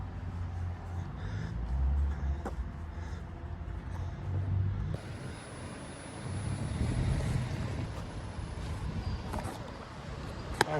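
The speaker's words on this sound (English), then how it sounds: "the wind's picking up" Wind gusts blow outdoors on a Blackpool street near a demolition area, a steady low rumbling buffet against the microphone that swells and eases, with faint traffic behind it.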